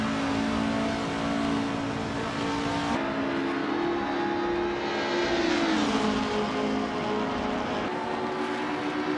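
Race cars, among them a Corvette and an Opel Commodore, accelerate around the tight corners and moderate straights of the Enna Pergusa circuit, with a continuous loud engine roar whose pitch rises and shifts as they pass.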